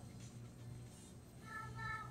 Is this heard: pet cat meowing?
yes